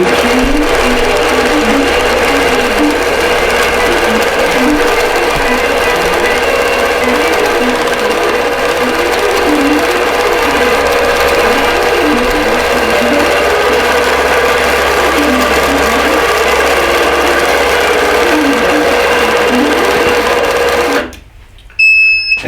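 An embroidery sewing machine stitches out a heart design, a steady loud mechanical whir with rapid needle rhythm running continuously alone, cutting off abruptly near the end.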